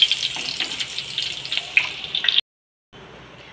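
Potatoes sizzle in hot oil while being cooked for a Bengali mochar ghonto, a steady, close crackling hiss for a couple of seconds before the sound cuts to near silence and a fainter hiss returns.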